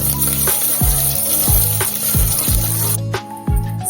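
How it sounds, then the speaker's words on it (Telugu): Curry leaves with dried red chillies and green chillies fry in hot oil for a South Indian pumpkin buttermilk curry: a steady close sizzle, broken by repeated thumping stirs and a brief hiss near the end. "కొద్దిగా కరివేపాకు, 2 ఎండుమిరపకాయలు, కొద్దిగా పచ్చిమిరపకాయలు వేసి దోరగా వేయించండి."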